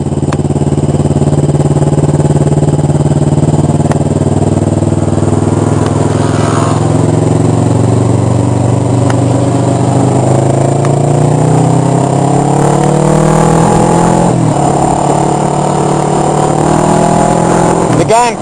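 A group of motorcycles riding together, including a 1000cc Kawasaki Ninja ZX-10R sports bike, with loud continuous engine drone and rising revs close by, wind buffeting the microphone and someone talking over it.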